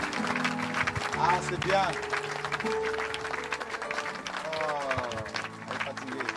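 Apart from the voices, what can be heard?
church congregation cheering and applauding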